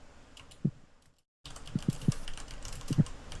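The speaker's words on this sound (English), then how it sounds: "Nurgle is typing." Someone types on a computer keyboard up close, producing scattered clicks and a few heavier key thuds, with a brief silent gap partway through.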